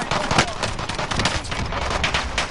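Rapid, dense bursts of automatic gunfire crackle loudly and almost without pause in a PS4 shooter game, with several weapons overlapping and a faint voice underneath.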